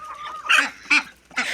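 Farm chickens clucking up close, three short loud squawking bursts separated by brief pauses.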